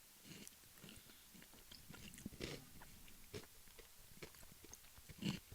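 Chewing dry Twinkies cereal, close crunchy bites and mouth sounds spread irregularly, with a louder crunch near the end, no talking.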